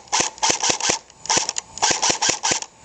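A Crosman Pulse R76 airsoft rifle fires semi-automatic: about eleven sharp, snappy shots in three quick bursts, loud and close, with short pauses between groups.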